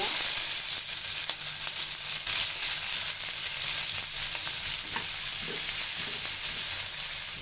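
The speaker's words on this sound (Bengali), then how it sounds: "পেঁয়াজ কাঁচামরিচটা একটু তেলে ভেজে নিব।" Onions and green chilies sizzle and crackle steadily in hot oil, a dense continuous frying hiss with occasional pops.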